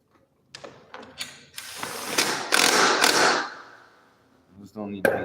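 Ratchet clicks and metallic mechanism noise while big shoulder bolts with plastic washers are fitted to a bike, a few separate bursts building into a longer loud stretch of ratcheting, close up.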